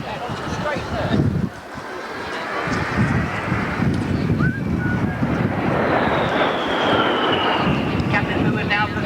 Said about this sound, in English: Captain Fu is now positioning for the simulated straight pass